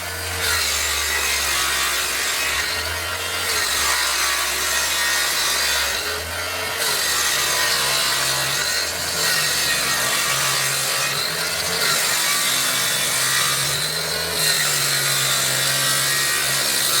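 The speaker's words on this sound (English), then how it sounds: "Not chainsaw, circular saw." A circular saw cuts steadily through wood, a loud, continuous grinding whine with slight periodic swells as the blade works through the board.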